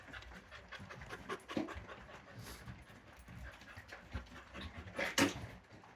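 A dog pants close by in quick, soft, rhythmic breaths, with a few faint whimpering, bark-like huffs, quiet and on its own.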